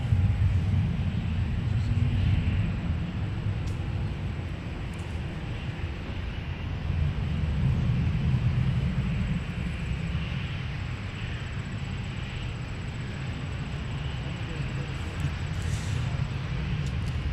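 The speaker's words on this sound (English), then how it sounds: "So now they're just starting their pushback here." Air France airliner at MSP airport during pushback, a steady low engine and ground rumble with a broad airy roar that swells and eases slightly, heard from a distance with no distinct events.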